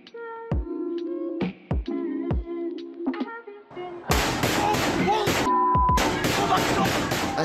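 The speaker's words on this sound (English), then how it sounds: "gunshots ring out in this South Florida high school" Gunshots at a South Florida high school: a few sharp, irregular bangs ring out, then a louder, denser burst of rapid shots and crackling fills the rest of the clip.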